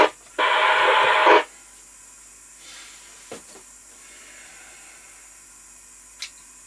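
A Binatone Long Ranger 40 handheld 4W CB radio gives a loud one-second burst of hiss, then falls back to faint background static broken by a few small clicks, with no voices.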